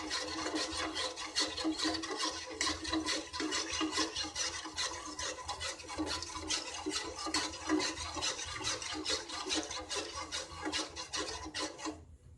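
Rice flour paste for palappam is stirred in a pan on the stove, producing a continuous, quick, rhythmic scraping and rubbing that stays fairly quiet and steady throughout.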